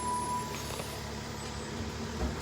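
A garbage truck rolls past outdoors, giving a steady, fairly loud low diesel rumble with a faint mechanical hiss on top. There is no talking over it.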